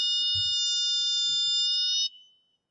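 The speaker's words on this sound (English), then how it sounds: "The buzzer is buzzing at a particular frequency" A piezo buzzer powered by a 9-volt battery on an electronics bench gives a steady, loud high-pitched electronic tone for about two seconds, then cuts off abruptly. Faint low thumps sound beneath it.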